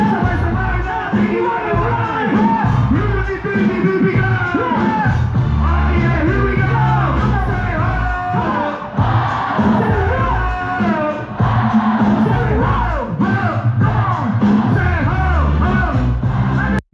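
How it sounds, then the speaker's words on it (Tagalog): Audience shouting and cheering at a stage performance, a dense, loud, sustained crowd roar with scattered yells and whoops and no clear break. "Grabe yung sigawan no"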